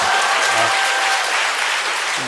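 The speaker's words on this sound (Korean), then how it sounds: "야, 박수 쳐주자." A church congregation claps together, dense and loud from the start, holding steady and then tapering slightly, with a few voices mixed faintly underneath.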